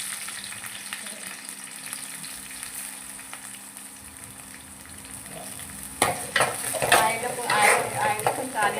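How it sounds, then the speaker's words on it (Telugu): Onions fry in oil for egg dum biryani with a steady close sizzle, then louder stirring and scraping of the pan near the end. "మిక్సీ ఆనియన్స్ ఫ్రై చేద్దాము"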